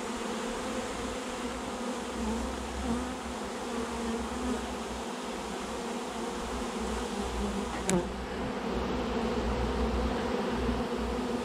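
A honeybee swarm drones steadily and thickly throughout a swarm capture in Pfinztal in May, a dense close buzzing with one brief knock partway through and no talk.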